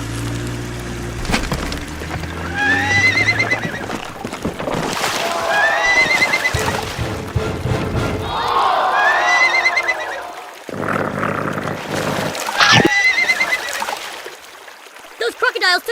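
Horses at a farm near a river bridge, in a LEGO toy adventure, neigh loudly and repeatedly in shrill whinnies, with hoof clopping and some vocal sounds mixed in.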